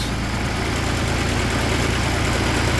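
A John Deere 322 lawn tractor engine idles steadily with a governor fault, giving a constant, even low rumble that stays close and loud throughout with no rise or dip in speed.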